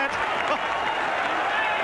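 A crowd at a 1990 rugby league match between St Helens and Australia roars and applauds in a dense, continuous wash of cheering and clapping, with commentary voices mixed in.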